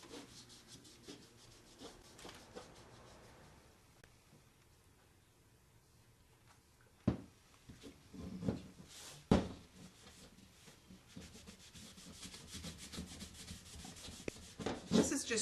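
A baby wipe rubs a dab of acrylic paint onto a wooden canvas frame, giving a soft, continuous scrubbing and rubbing close up, with a few sharper knocks partway through and no talking.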